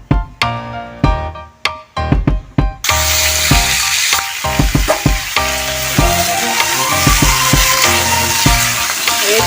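Jackfruit frying in a pan during home cooking, a loud steady sizzle that fills the clip after a few sharp knocks and clatters at the start, with no talking.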